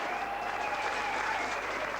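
Audience applause at a community gathering honouring a youth football team: a steady, even wash of many hands clapping, moderately distant and continuous throughout, with no talk over it.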